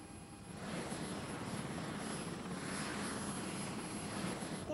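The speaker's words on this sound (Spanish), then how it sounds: "El helicóptero hace mucho ruido." Helicopter heard from inside the cabin during a ride, a loud, steady broadband rotor and engine drone that holds constant throughout with no voices.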